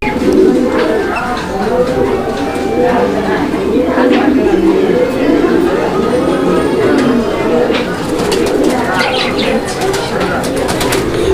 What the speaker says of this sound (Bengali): একদম পুতুলের মতো কবুতর